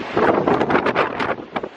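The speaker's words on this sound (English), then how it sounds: "Sorry about the wind." Wind buffets the microphone on a deserted island street in rough, rumbling gusts. It is close and loud for just under two seconds.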